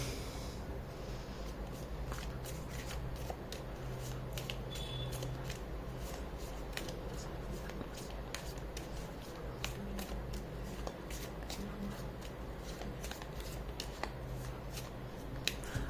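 Tarot cards are shuffled continuously for a long stretch, giving a soft, dense riffling with frequent small crisp flicks and snaps. The sound is close and fairly quiet, with no voice over it.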